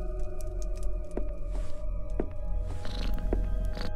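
Cat purring in the video game Creepy Tale, a soft continuous low rumble with faint clicks and tones of game ambience over it.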